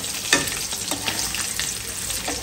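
Ginger, garlic, onion, a dried chili and turmeric powder frying together in a pan, giving a steady close sizzle broken by a few quick stirring scrapes.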